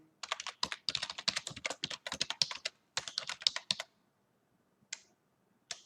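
A username is typed on a computer keyboard for a git push as a quick burst of crisp key clicks, then a pause and two isolated taps, close and fairly quiet.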